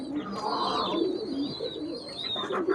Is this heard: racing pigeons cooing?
yes